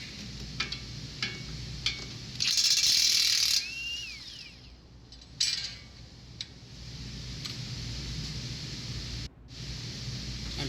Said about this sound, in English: Now we're going to take off the 19mm bolt